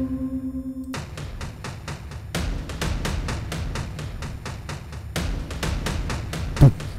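Programmed drum beat from music production software for a Balinese-style epic orchestral piece: crisp, rapid, evenly spaced hits that drop out briefly and then resume, heard alone without voices.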